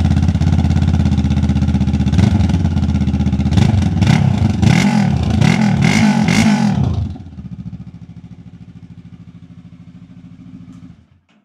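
A vehicle engine and exhaust rumble loudly inside a garage, revving and popping at first, then settling to a steady lower idle before cutting off at the end.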